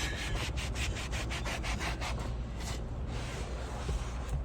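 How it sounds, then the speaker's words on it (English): A folded towel wipes a car seat during interior detailing: a steady, close rubbing swish with rhythmic back-and-forth strokes early on, continuing alone without speech. "just take a towel and just fold it. And we'll just come down and we'll just wipe it out"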